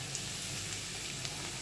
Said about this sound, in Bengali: আলুটা সেটা একটু ভেজে নেব।